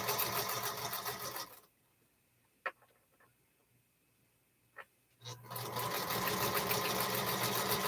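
Domestic sewing machine stitching a quilt panel, a steady close whirring run that stops for a few seconds of near silence with a couple of small clicks, then starts again and keeps going.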